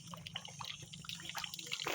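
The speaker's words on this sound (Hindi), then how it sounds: "पानी 24 घंटा इसमें लीकेज करते रहता है" Water leaking and dripping steadily from a village bore tap, with irregular drips and trickling over a continuous low hum outdoors.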